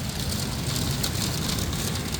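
Heavy late-season monsoon rain pours in a dense, constant broadband hiss with a low rumbling undertone, loud and unbroken, no voices.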